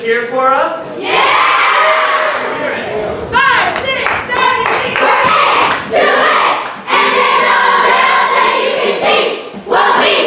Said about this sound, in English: Can campers give a cheer for us?